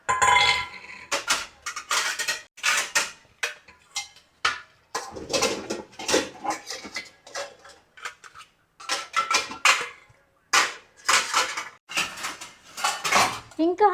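Steel pots, dishes and cutlery clatter and clink in a home kitchen as they are sorted and stacked, irregular bursts of close metallic knocks with quiet gaps between.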